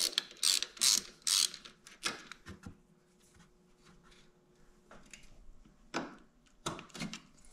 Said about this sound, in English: we'll go ahead and take this bolt off the radiator